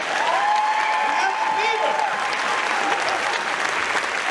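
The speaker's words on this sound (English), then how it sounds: "You have to give him another big round of applause for that." Sustained audience applause after a school music performance by children, steady dense clapping filling the whole stretch with faint crowd murmur beneath.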